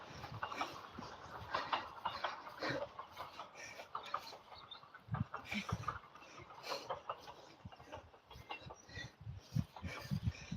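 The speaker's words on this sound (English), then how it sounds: "One of the trains." A train passing in the distance in the countryside, a rumbling, uneven rattle rising and falling over several seconds, faint and mixed with outdoor background noise.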